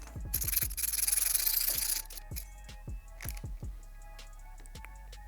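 A 10mm socket turns a pivot bolt on a lever of a 2018+ Kawasaki Ninja 400, giving a close series of sharp clicks and taps with a brief scraping rasp early on.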